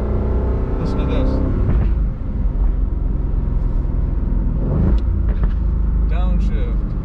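An Aston Martin Vantage Roadster's engine hums loudly and steadily from inside the car, then blips as it downshifts on its own while slowing, with someone talking over the engine sound.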